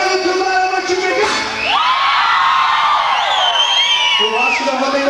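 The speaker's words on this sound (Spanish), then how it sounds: "Eu quero ver um gritinho gostoso." A festival crowd at a German immigration celebration screams playfully on cue, a loud swelling burst of shrieks and whoops from many voices, with a performer's amplified voice before and after.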